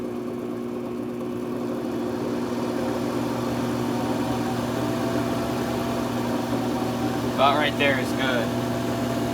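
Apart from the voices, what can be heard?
wood lathe spinning up, turning purple heart wood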